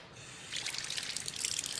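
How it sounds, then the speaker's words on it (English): Cold water pours into an enameled cast iron casserole for braising meat, a steady splashing trickle that starts after a brief quiet moment and runs close and clear with no talking. "And now add cold water"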